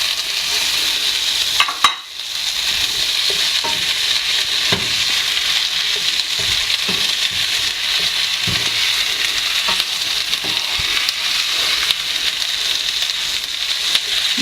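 Frozen peas and potato samosa filling are stirred in a frying pan, a loud continuous sizzle with scattered scrapes and knocks of the spoon, close up with no talk.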